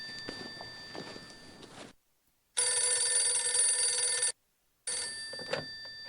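An electronic telephone trill sounds in the horror adventure game Phantasmagoria: A Puzzle of Flesh, a loud steady ring broken by abrupt silences between bursts, near and unaccompanied by speech.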